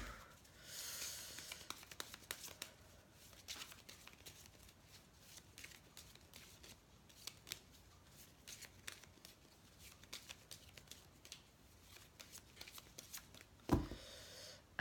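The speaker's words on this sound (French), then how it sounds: "Alors je remets mes cartes comme il faut." Tarot cards are shuffled and straightened by hand at close range, giving quiet, repeated riffling and flicking bursts with a soft knock near the end.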